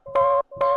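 Two short chopped hits of a daughter's music box sample, each a bright chiming tone with a faint low thump beneath, loud and close with a brief gap between.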